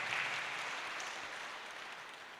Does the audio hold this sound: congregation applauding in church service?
yes